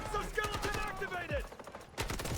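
AKM rifle fire in an online shooter game, rapid bursts of close gunshots crackling over a busy battle mix, with someone talking excitedly over the shooting.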